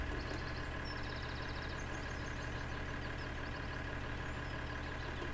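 A tractor engine idles steadily with a cultivator attached in Farming Simulator 2013, a constant low mechanical hum running unbroken throughout with faint higher chirps above it.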